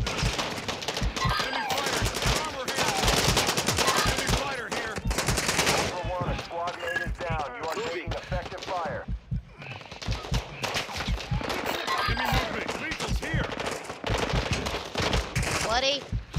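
Rapid automatic gunfire and repeated shots from Call of Duty DMZ fill the mix, bursts coming close and loud with short pauses, while players shout and talk over the shooting.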